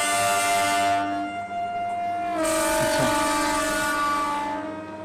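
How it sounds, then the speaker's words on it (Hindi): Jodhpur–Jaisalmer single-car DMU diesel train at Ramdevra station on a diesel line, sustained loud tonal horn-like drone with a pitch shift midway over rumbling engine noise, close by. "इधर भी चलती हैं ये सिंगल DMU"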